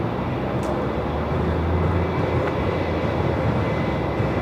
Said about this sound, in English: Next arrival, though, is going to be Velocity 862, a Max 8 in from Sydney.